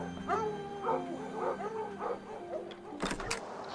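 Several dogs bark, yip and howl from a kennel in the video game The Pale Beyond, a string of repeated cries that rise and fall, then a louder burst of sharp barks near the end.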